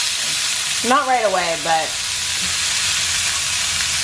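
Pork chops sizzle in a frying pan with a steady, loud hiss that runs the whole time, while a person talks briefly over it near the start.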